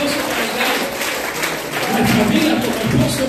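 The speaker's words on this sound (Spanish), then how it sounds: "Vamos a dar un fuerte aplauso por las mujeres acá" A church congregation applauds the women present during a pastor's Spanish-language sermon, a steady wash of clapping that swells toward the end, with voices murmuring underneath.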